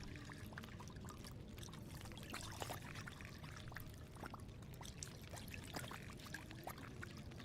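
Water pouring in the survival video game The Long Dark, a faint steady splashing trickle that runs continuously with small bubbly spurts and no talking over it.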